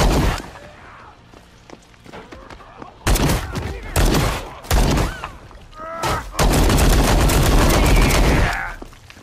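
Bursts of AK rifle gunfire ring out nearby, loud and sharp, in rapid overlapping volleys with a long sustained stretch near the end, while a person speaks briefly between shots.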